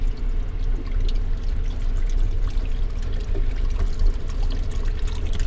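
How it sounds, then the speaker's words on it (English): Continuous pouring and trickling water rushing into a train sink basin, a steady close-up splashing flow with faint drips. "The basin fills up. You do your thing, and then and as you close, it drains like that."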